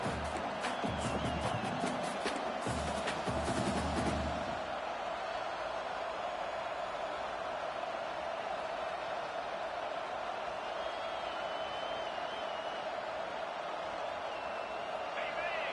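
Steady stadium crowd roar filling a college football game in NCAA 25, a continuous broad wash of massed voices, with a brief burst of louder, busier activity in the first few seconds before settling into a sustained hum.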